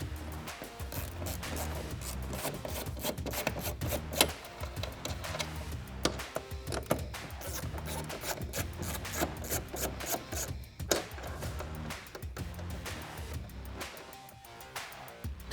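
Taillight nuts being worked off their studs on a 2015-2023 Ford Mustang: a steady run of close, rasping ratchet clicks and rubbing metal, fairly loud and continuous with brief pauses.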